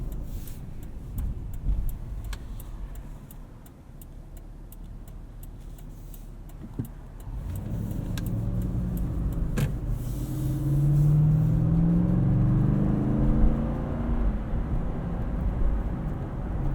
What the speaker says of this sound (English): The throttle is responsive off the line.